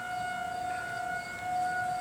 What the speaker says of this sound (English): The sirens are going off, guys. There's one right down the street from here.